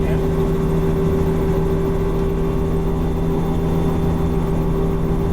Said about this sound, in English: We're holding the flare, bringing the speed back, just controlling the rotor RPM.